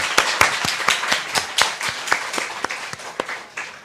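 A church congregation gives a short round of applause to welcome newcomers, with moderately close, uneven individual claps from a small group that taper off within a few seconds.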